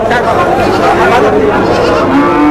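Goat bleating at the Aricha livestock market amid a busy crowd, a wavering cry rising briefly above steady market chatter and nearby voices.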